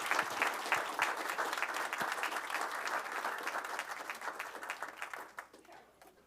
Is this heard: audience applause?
yes